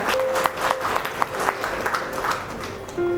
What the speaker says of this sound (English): When I call out the names, आप लोग थोड़ा clap करना.